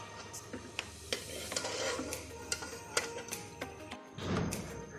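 Fried gulab jamun being dropped into sugar syrup, with soft sizzling, light taps and clinks of a utensil against the pan and a gentle stir near the end, quiet and close, no speech.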